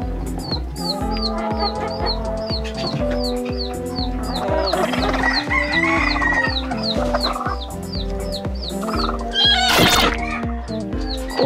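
Chickens cluck and squawk in a busy, continuous flock chatter, close by, with a brief louder burst of calls near the end.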